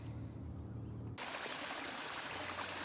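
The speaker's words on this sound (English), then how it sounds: "Here you can see the water being filtered from the sack I filled up at the spring." Spring water trickling from a filled sack through a filter into a bottle on the Appalachian Trail, a steady close hiss and dribble that grows brighter partway through, with no voices.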